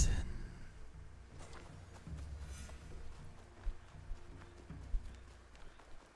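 Horse hooves clopping in the video game Assassin's Creed Shadows, a steady running gait with a few sharper hoof strikes standing out over a low rumble of game ambience.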